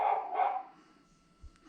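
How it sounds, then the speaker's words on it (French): A recorded dog bark plays from a pedestrian warning device installed on a car, two quick electronic-sounding barks heard up close, followed by a brief quiet with a faint thump. "Là, c'est le chien."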